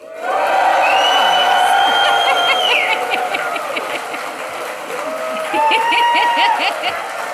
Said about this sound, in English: give a big cheer for the graduating class of 2025